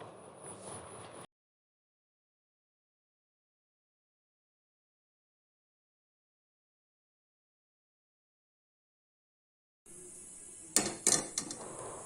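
Raw banana pieces being mixed with gram flour and turmeric in a bowl, with short bursts of clinking and scraping at the start and again near the end, separated by a long silence.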